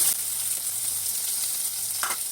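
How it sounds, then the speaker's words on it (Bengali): Oil sizzles steadily as potatoes fry in a pan, a bright continuous crackle with a brief clink of a utensil near the end. "এই তেলের মধ্যে আলোগুলো একটু ভেজে নিচ্ছি"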